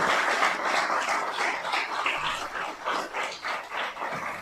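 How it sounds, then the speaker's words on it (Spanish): A crowd applauds Mexico at a political address, a loud, rippling wash of clapping that swells and surges with scattered louder bursts. "Les pido un otro aplauso para México, su pueblo, su gobierno"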